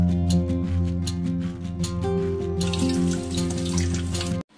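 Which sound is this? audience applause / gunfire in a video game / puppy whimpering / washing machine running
washing machine running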